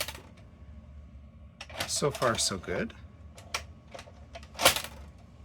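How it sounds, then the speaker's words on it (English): A 1988 Panasonic PV-4841 VCR ejects a tape with a quick run of mechanical clicks and whirring clatter, close and fairly loud, then a firmer clunk, with someone speaking briefly afterward. "Let's see if it'll eject the tape."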